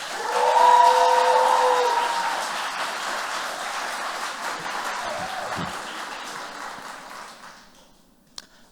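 An audience at a university master's graduation ceremony in law applauds steadily and loudly, a dense wash of clapping that slowly thins out and fades toward the end, with a sustained tonal hum at the start.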